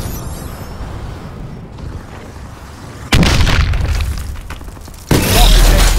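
Heavy explosions from a friendly bombing run in Call of Duty: Advanced Warfare, two sudden loud booming blasts a couple of seconds apart over a rumbling battlefield background.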